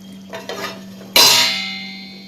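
A few soft scraping stirs in a pot of black-eyed pea curry, then a louder clattering scrape of a utensil against metal that fades out, over a steady low hum.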